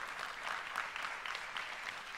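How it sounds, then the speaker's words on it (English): Keynote audience applause for Epic at Oculus Connect comes through faint and distant as a steady patter of many hands, with a few sharper claps standing out. "some applause for Epic."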